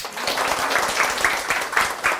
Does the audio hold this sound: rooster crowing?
no